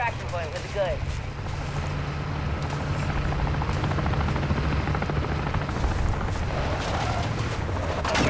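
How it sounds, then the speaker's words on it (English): Helicopter in the Call of Duty video game, a steady loud rotor drone with low chopping throb filling the whole stretch, mixed with game effects and bursts of noise. "Watch the sky. There's an helicopter on your tail."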